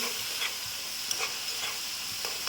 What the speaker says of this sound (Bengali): মশলাটা কষে নিয়েছি ভালো করে,